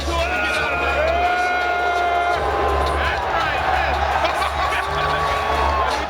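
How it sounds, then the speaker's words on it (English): A basketball arena crowd at the Air Canada Centre, a steady roar of cheering and whooping that fills the space, with someone speaking over it throughout. "They would even cheer when he missed a shot during warm-ups"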